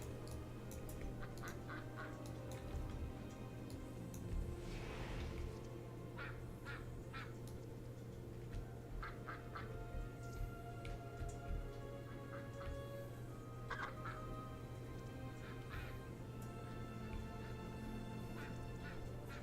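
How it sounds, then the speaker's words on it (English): Ducks quack repeatedly in an online multiplayer video game, short nasal calls recurring at a moderate distance over a steady background hum, with no talk. "Don't kill the duck."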